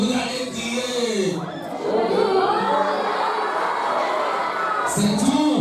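Boys in a classroom shouting together, a loud sustained burst of overlapping young voices filling most of the stretch, with a brief dip before the noise resumes.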